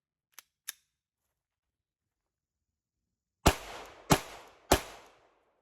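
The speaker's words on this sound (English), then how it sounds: "after having shot them all in succession" Three loud, close pistol shots from an MR920 and a Glock 34 fired in quick succession about half a second apart, preceded by two faint mechanical clicks.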